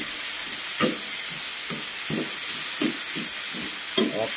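A spoon stirring curry sauté in a pan, with a steady hiss of frying under roughly ten soft scraping strokes at an uneven rhythm, close and fairly quiet.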